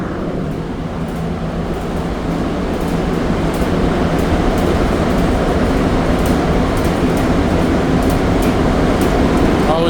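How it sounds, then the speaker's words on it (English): An MR73 subway train on the Montreal Metro rides between Angrignon and Lionel-Groulx, a steady, loud rumble and rail roar that holds throughout with faint high squeals and ticks, no voices. "So now we're here on the train on a normal schedule."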